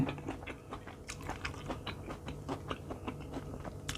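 Close, crisp crunches and wet chewing of a queen cherry tomato, with repeated bites and mastication clicks in an irregular rhythm, quiet and with no talk.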